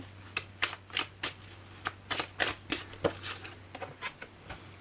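Cards drawn from a deck give a quick series of crisp, soft snaps and flicks at an uneven rhythm, close and quiet.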